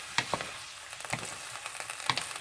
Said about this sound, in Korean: 불로 센 불로 올리셔서 계속 뒤적거려 주세요.